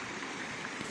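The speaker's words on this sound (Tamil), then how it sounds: "அழகாக தண்ணியெல்லாம் பாருங்கள் எப்படி ஊற்றுது பாருங்கள், சூப்பராக இருக்குது. நல்லா அற்புதமான ஃபவுண்டைன்ஸ் வச்சுருக்காங்க" Water fountains at Gardens by the Bay in Singapore splash in a steady, dense rush, with a constant close wash of falling water and no voices.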